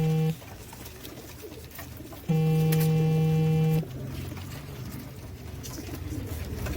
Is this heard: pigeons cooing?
yes